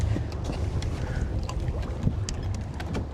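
A sailboat's engine idles at anchor off Farmers Cay in the Exumas, a low steady rumble under wind and water noise, continuous and fairly close.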